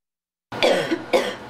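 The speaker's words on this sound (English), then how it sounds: "A single cough or sneeze can send hundreds of virus particles" Two sharp, close coughs from one person break a silence, the second following about half a second after the first; no speech.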